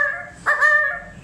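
A human voice imitates a dog, giving one sharp, drawn-out yelping bark that rises suddenly and then trails off, alone and close.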